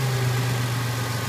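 A 1999 Toyota 4Runner engine idles at operating temperature, a steady low hum with an even tone, close and alone.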